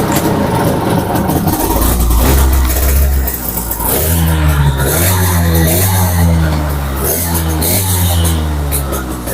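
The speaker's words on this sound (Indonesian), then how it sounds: "Dan motor ini mesinnya ya dinyalakan aja ya." An old, unpolished but intact classic motorcycle's engine is started and runs, a loud, close, rumbling idle with rhythmic pulsing and slight revving throughout, with no talk over it.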